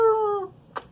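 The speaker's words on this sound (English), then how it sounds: "My kitty says hi." A pet cat gives a single short meow at the start, close and clear, fading away and followed by faint small sounds.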